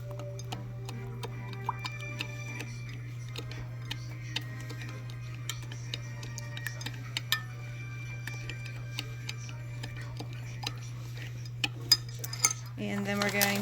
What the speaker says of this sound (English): I'm going to add my 1/4 cup of sugar. I'm just going to put it in there for right now. And I'm just going to stir it up a little bit.